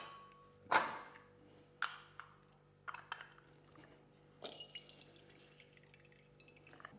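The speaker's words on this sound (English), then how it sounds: "And then we're going to take the juice of 2 oranges" Orange juice squeezed from two oranges falls in a few distinct drips and splashes into a bowl, quiet and close, spaced irregularly with small clinks in between.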